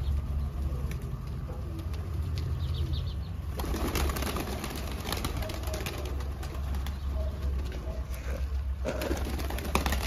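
Pigeons being released burst into a loud flurry of flapping wings partway through, the dense fluttering continuing near and rustling after a quieter opening with faint cooing.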